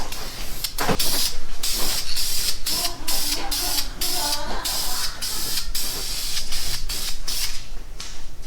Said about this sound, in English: We're currently painting the motor mount brackets.